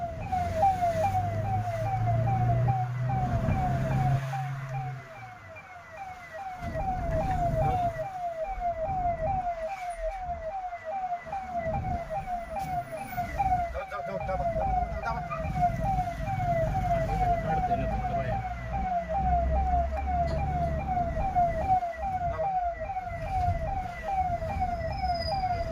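A police car siren on a ghat road climb wails in a steady repeating pattern throughout, loud and close, over vehicle engine rumble from a police pursuit in a kidnapping case.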